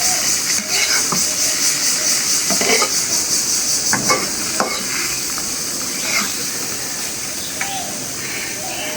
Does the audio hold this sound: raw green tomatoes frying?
yes